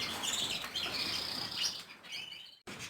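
Small caged finches, goldfinches or canaries, chirp and twitter in quick bright bursts from close by, with a rustle of wings and a brief cutout near the end.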